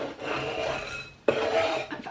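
Chopped cookie dough ingredients scraped into a mixing bowl while baking Easter cookies: two rasping scrapes, the second starting with a sharp knock, close and moderately quiet.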